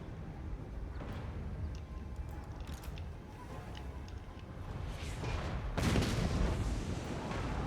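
Queen Bess cannon artillery fire in Total War Warhammer 2, a heavy boom rising near the end over continuous dense battlefield noise of clanks and distant gunfire.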